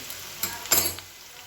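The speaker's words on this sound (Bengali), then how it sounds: "এঁচোড়ে ফোড়নের জন্যে 5 ফোড়ন আর তেজপাতা দিয়ে দিলাম" Panch phoron spices and a bay leaf hit hot oil in a pan for a vegetarian jackfruit curry, giving a soft steady sizzle with two brief louder crackling bursts, heard close and alone.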